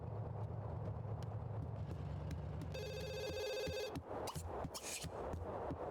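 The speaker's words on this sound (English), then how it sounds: "But you might as well answer the phone first." In The Sims 2, a telephone rings as a short burst of bright electronic trilling over quiet game background noise, followed by soft clicks.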